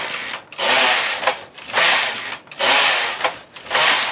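A knitting machine carriage runs back and forth knitting rows of a hem, each pass a loud, even whirring rush lasting about a second, separated by brief pauses, with no voices.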